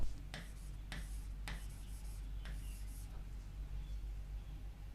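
During a lecture a teacher writes on a board, a series of about five sharp, evenly spaced strokes and taps over a steady low room hum, fairly faint, with no voice.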